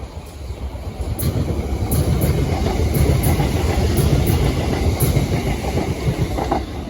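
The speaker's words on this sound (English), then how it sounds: "the next train to pass by will be a Southeastern Electrostar" Southeastern Electrostar electric train going past near Wandsworth Road and Clapham High Street, a loud sustained roar with clickety-clack wheel rhythm and faint squeals overhead, rising in the first second and holding steady, no speech.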